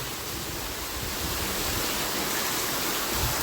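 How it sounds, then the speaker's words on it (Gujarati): Heavy torrential rain pours down in a steady, dense roar that holds unbroken throughout, with no voices over it. "સીધું ચોધારું પાણીનું ધારું જ થાય"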